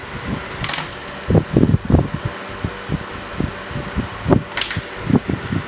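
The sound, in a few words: DeWalt DCE511B cordless jobsite fan running at maximum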